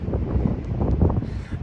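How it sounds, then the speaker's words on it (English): Strong wind buffets the microphone on a winter mountain during a storm, a steady low roar with gusty surges that continues unbroken throughout. "it's pretty windy"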